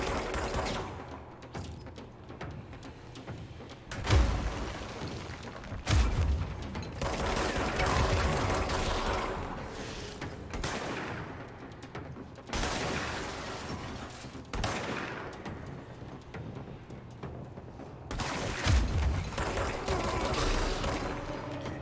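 Gunfire comes from a weapon in the video game Control: several bursts of shots separated by short pauses, fairly loud over a steady game backdrop, with no talk.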